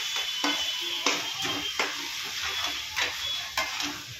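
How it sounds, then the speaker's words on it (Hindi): Chicken masala spices and a little water are stirred in a frying pan, with a spoon scraping at a steady, irregular rhythm over a soft sizzle, close and fairly quiet. "ऐसे अच्छे से हम मिक्स कर देंगे"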